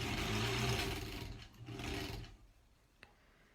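A sewing machine stitches quilt block seams in a granny square, running steadily, then easing off and stopping as it bumps over seams, with a faint click near the end.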